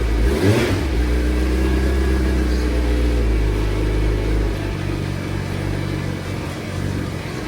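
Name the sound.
Suzuki Hayabusa motorcycle engine starting and revving after five years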